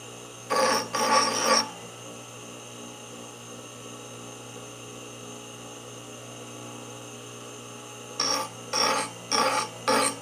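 An axe is filed in a workshop: a quick pair of rough rasping strokes at the start, a long quiet stretch, then four more rhythmic rasps close by at the end.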